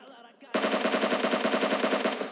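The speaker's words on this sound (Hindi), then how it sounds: "लेकिन तभी उधर से चारों तरफ से स्नाइपर चलने लगे हमारे ऊपर।" Gunfire in the battle royale game PUBG: a sudden, loud burst of rapid automatic shots that rattles on continuously for about two seconds before trailing off, with no talk.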